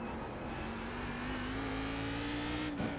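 A race car engine drones steadily at a constant high pitch in iRacing, loud and close, with a slower car being closed on. A brief thump comes near the end, and there is no talk.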